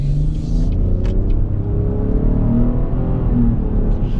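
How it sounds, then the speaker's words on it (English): The V6 engine of a 2020 GMC Acadia AT4 accelerates in front-wheel-drive mode with a steady, loud low rumble and rising drone, heard from inside the cabin with no talking. "I do hear quite a bit from the V6, and we're actually going to get an acceleration pretty early on in this video"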